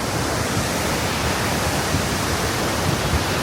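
A waterfall's constant, loud rushing roar fills the air evenly and without a break, with no voices.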